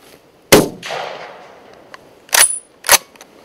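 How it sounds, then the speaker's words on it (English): A rifle shot is fired at a roebuck during a post-rut stalk in Yorkshire. One sharp, loud crack is followed by a rolling decay, then two crisp mechanical clicks. "But I was happy with the sound of the shot."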